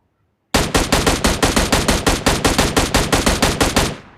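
UMP submachine gun in a mobile shooter video game firing one continuous fully automatic burst of about twenty rapid, evenly spaced shots, loud and close, then cutting off.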